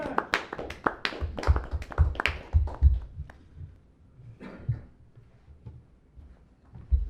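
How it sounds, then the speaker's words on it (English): A round of applause at a community oversight advisory board meeting, a short burst of scattered hand claps from a small group that fades within a few seconds, followed by quieter room sounds and a final clap. "a round of applause for you all"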